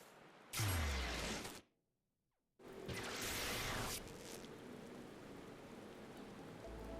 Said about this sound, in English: It's raining everywhere in Gridania.